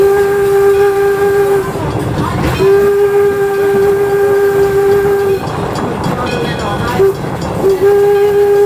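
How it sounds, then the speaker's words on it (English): The whistle of Detroit & Lima Northern Railway steam locomotive No. 7 blows in long sustained tones, sounding a steady harmonic note with short breaks, loud and close, over rumbling train noise. "Of a single whistle, letting us know it is safe to come off the train."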